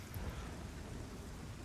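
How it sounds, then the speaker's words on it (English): Steady rain hisses with a low thundery rumble underneath in the video game Lords of the Fallen, a faint, even wash of storm noise with no voices. "And just like that, it's raining."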